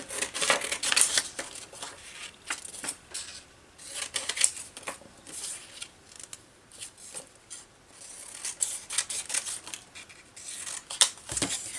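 Scissors roughly cutting a piece of paper for an art journal page, giving close, dry snipping and rustling in uneven bursts with short pauses between cuts.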